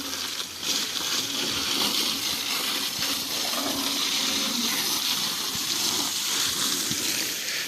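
A water-wash jet sprays a farm tractor during servicing, giving a continuous loud hissing, splashing rush of water with small fluctuations and no pauses.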